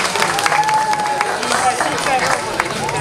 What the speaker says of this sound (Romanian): aplauze pentru grupul de vioară din Bustuchin,